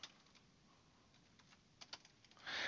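Faint keystrokes on a computer keyboard, a few scattered clicks building to a quick denser burst of typing at the end, with no voices.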